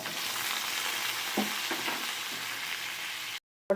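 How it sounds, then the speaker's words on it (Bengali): Whole cumin and chilli temper in hot oil with diced potato, a dense, continuous frying hiss with a few light stirring taps before an abrupt cutoff. "ফোড়নটাকে একটুখানি ভালো করে ভেজে নিচ্ছি।"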